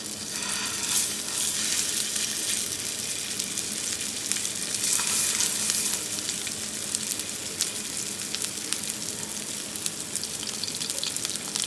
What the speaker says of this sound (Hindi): मेरा जो पैन है वो नॉन स्टिक है, इस वजह से मैं शैलो फ्राई से भी कम उसमें ऑयल डालकर इसको मैं फ्राई करूँगी।